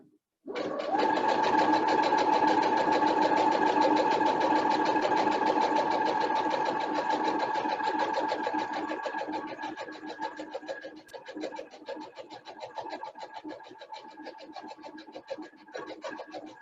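A sewing machine stitches fabric for a doll, a steady close rapid whir that runs continuously, slightly easing in loudness toward the end with small irregular stops.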